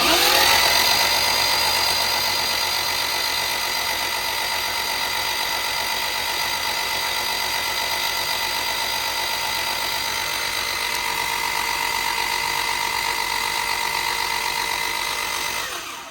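A car engine turned over continuously on the starter during a compression test after a big cam swap, a loud, close, unbroken mechanical whir and drone holding steady for about sixteen seconds before it trails off.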